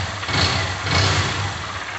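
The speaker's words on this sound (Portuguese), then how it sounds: "essa 160 aqui, ó, 160 2016, uma fã, e ela tá com barulho horrível aqui no motor" A 2016 Honda Fan 160 motorcycle engine idles with an abnormal mechanical noise, a steady close low rumble with slight rising pulses, with no talking.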